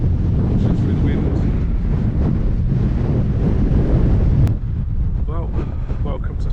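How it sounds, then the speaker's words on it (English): Strong wind buffets the microphone on a mountain ridge in the Brecon Beacons near Pen y Fan, a loud rumbling roar throughout that eases slightly near the end, with faint voices underneath. "She's through the wind."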